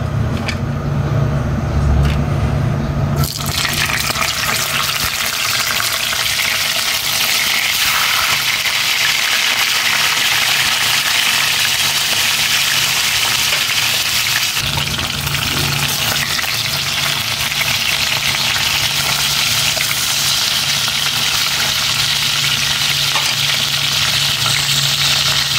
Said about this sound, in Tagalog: Prito ko naman na itong tilapia.